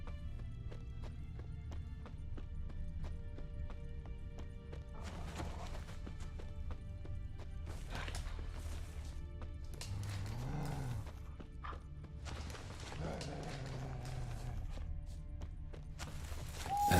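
Hooves of a horse in The Witcher 3 video game clop in uneven bursts over a steady low background hum, with occasional softer rustling and a short neigh-like sound near the end.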